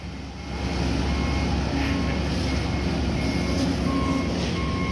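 A truck backs up on a rural property with steady, evenly spaced reversing beeps over a constant engine drone that swells in at the start and holds loud and close, with no talk.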